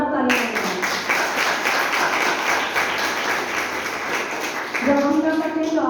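Loud applause for two senior members at a Hindi-language leadership gathering, a dense wash of clapping lasting several seconds, with a brief overlapping voice near the end.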